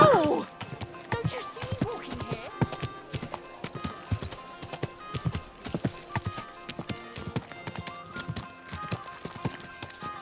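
Horse hooves clip-clop steadily in a video game, a quick run of close, moderately loud clops with a brief whinny at the start and no speech.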